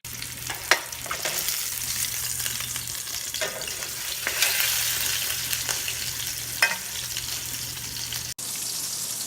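Spice-rubbed pork tenderloin sears in a hot pan, a steady loud sizzle and crackle running throughout with occasional sharper spits and pops, no voices.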